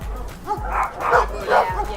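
A shepherd dog barks in a quick run of several sharp woofs and yips near the listener, with a faint whimpering tone between barks.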